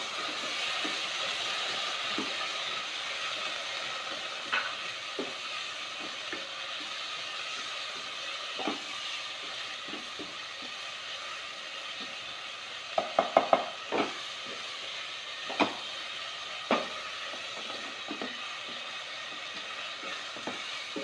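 Tomato paste and chana masala sauté in oil in a pan, giving a steady soft sizzle with occasional sharp spoon scrapes and taps during stirring, with no talking.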